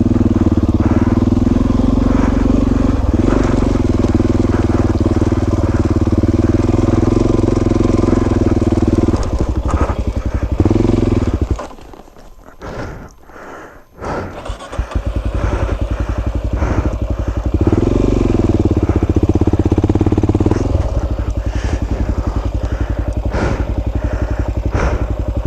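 A single-cylinder KLR or DRZ dual-sport motorcycle engine running loud and close on a trail, a steady throbbing idle with revs that cut out briefly then restart and settle back to a rumbling idle.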